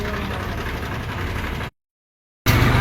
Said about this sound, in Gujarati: જંગલમાં ટ્રેક્ટર અવાજ